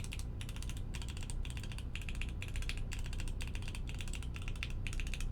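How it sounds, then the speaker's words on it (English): Typing on a lubed Iron 165 mechanical keyboard gives bursts of close, crisp key clacks in a steady rhythm, with short pauses between the bursts. "So lubing has made a huge improvement to this particular keyboard."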